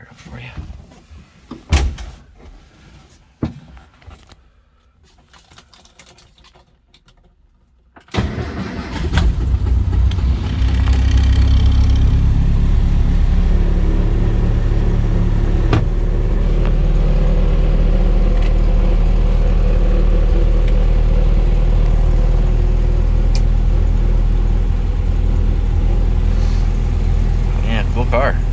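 A restored 1962 Nash Metropolitan with 78,323 miles gives a few door clunks and rattles, then its engine cranks, catches, and settles into a loud, steady, rumbling idle close by.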